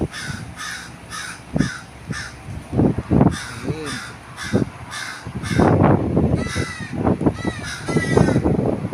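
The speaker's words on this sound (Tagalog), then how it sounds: "Kita mo yung mga uwak guys." Several crows caw repeatedly at varying distances in the USA, harsh calls overlapping in irregular bursts against faint background noise.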